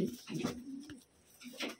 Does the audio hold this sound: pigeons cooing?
yes